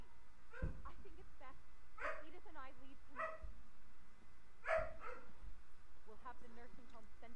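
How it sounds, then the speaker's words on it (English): A dog in the video game What Remains of Edith Finch barks several times in short bursts at irregular intervals, fairly close, with a person talking quietly over the barking. "And the barking starts."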